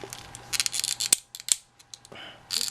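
Ratchet joints of a Play Arts Kai DC Variant Batgirl action figure being flexed, giving quick bursts of close plastic clicking and ratcheting with two sharp snaps between them.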